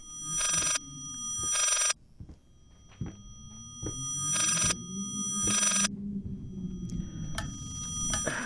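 Old telephone in the horror game Layers of Fear ringing in repeated loud electronic bursts, each about a second long with short gaps between, over a low droning ambient hum in an otherwise quiet room.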